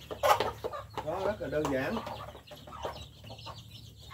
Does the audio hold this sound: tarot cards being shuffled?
no